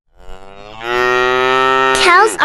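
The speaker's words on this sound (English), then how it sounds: "Cow is a large farm animal with a big body and 4 legs." A cow gives one long, loud, close moo that rises and holds steady, ending in a brief strained upturn.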